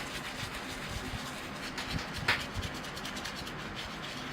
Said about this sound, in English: spray the trunks and just give them a good scrubbing to get any green algae off them